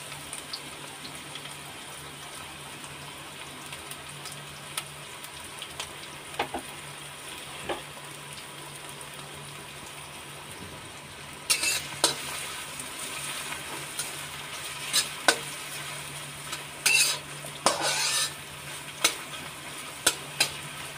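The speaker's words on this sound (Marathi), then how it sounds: "तर तेल आपलं गरम झालेलं आहे. त्यामध्ये आपण पहिले कांदा टाकूया." Chopped onions fry in hot oil over a high flame for soya Schezwan fried rice, giving a steady low sizzle that turns into louder crackles and stirring scrapes partway through.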